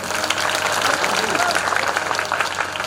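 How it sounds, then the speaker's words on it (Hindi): An audience at a Shrimad Bhagavat recitation at a Durga temple claps together in a burst of steady, fairly loud applause, with a few voices mixed into the crowd noise. "एक बार ताली बजाओ जोर से।"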